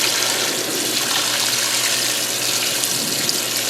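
A washing machine in its rinse cycle, with suds foaming up, gives a loud, steady rush of sloshing water close by, running continuously without breaks.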